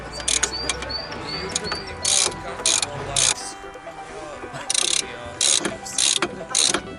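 Socket wrench ratchet tightening the brake caliper bolts on a Mercedes Vito, sharp clicking bursts repeating in short runs, close and loud, with a few quieter rattles between them.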